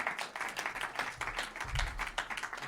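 Scattered clapping from a small crowd, quick irregular claps fairly faint and slightly distant, with no voices over it.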